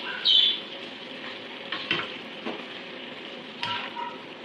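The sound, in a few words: squid frying and being stirred in pan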